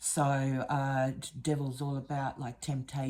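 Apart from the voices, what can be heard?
No distinct noise like a dog, phone or traffic.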